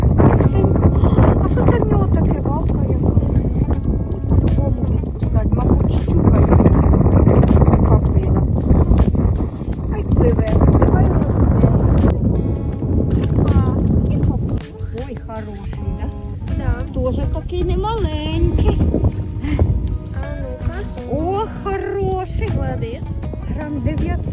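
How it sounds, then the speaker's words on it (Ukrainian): Strong wind buffets the microphone in heavy, roaring gusts while carp fishing, with a voice talking intermittently over the rumble. "вітер дуже сильний"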